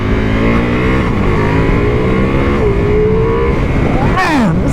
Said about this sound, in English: the more you rev it, the louder that grunt gets